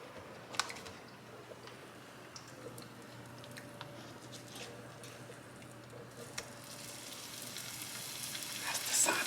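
Beef patty sizzling in a pot for a chopped cheese sandwich, a faint steady frying hiss with scattered small crackles and a few soft clinks, rising slightly toward the end.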